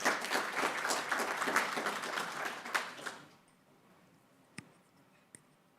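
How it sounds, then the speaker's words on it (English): Audience at a college Native American Heritage Month kickoff event applauding, a dense burst of clapping for about three seconds that fades out, leaving a quiet room with a couple of isolated claps. "Round of applause."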